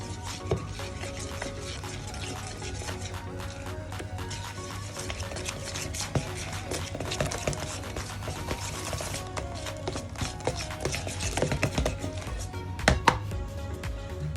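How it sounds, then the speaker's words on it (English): Whisking eggs with zucchini and olive oil in a bowl, a continuous close wet stirring with frequent light clinks and scrapes against the bowl, steady throughout and alone without talk. "2 tablespoons of olive oil, and then we mix this well"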